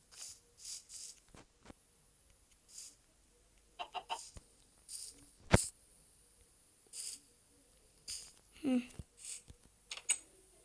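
Scattered clucks from a Minecraft chicken come in short bursts over a quiet background, with a few brief clicks and faint sounds between them.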